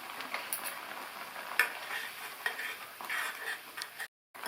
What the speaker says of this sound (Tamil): இது 2 நிமிஷம் நல்லா கொதிக்கட்டும்.